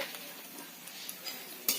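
Dried red chillies and nigella seeds frying in hot mustard oil make a quiet, steady sizzle, with a faint clink of a stirring utensil near the end.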